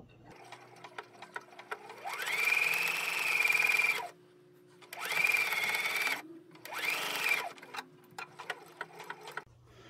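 A sewing machine stitching two fabric pieces right sides together for a baker boy cap, whirring in three loud close runs of a few seconds each, separated by pauses with light handling clicks.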